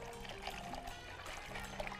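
Plain water poured into a pan on the stove during sweet-making, a faint, steady trickling pour heard close up against a low background hum.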